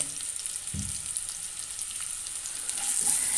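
Sliced onions frying in the oil left over from frying prawns, a steady close hiss of sizzling with a couple of soft stirring knocks, no voices.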